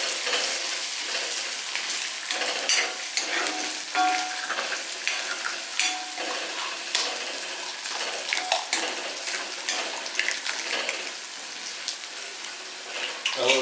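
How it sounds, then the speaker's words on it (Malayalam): Two chicken eggs beaten briskly in a bowl, a steady run of close, fast whisking taps and sloshing with a bright, wet texture throughout and no speech. "അതിനകത്തോട്ട് നമ്മൾ ഈ മുട്ട ഒന്ന് പൊട്ടിച്ചിട്ടൊന്ന് ബീറ്റ് ചെയ്യാവേ"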